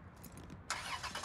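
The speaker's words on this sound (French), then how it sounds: "tu peux démarrer la voiture?" A car engine turns over and catches, a quiet cranking followed by a sudden jump into a steady, louder running sound, fairly close by.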